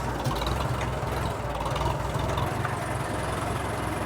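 An old manual tractor's engine idles close by with a steady, knocking low chug, running alone at an even rhythm.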